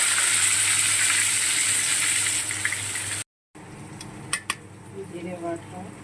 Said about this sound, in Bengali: বাকি তেল যেটা রয়েছে তার মধ্যে পেঁয়াজ আর টমেটো কুচিয়ে দিয়ে দিলাম